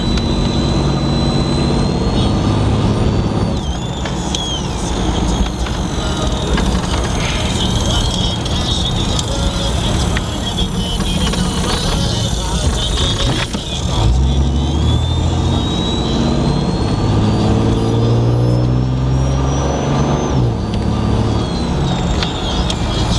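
A 1986 Chevy Caprice engine hums and drones while driving, with road noise throughout and rising and falling revs as it moves along.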